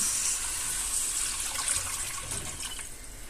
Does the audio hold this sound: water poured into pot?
yes